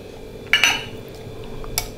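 A spoon clinks against a dish during a home lunch of rice with curd, cream-top yogurt and ghee: two sharp metallic clinks close together near the start, then a fainter one later, over quiet room tone.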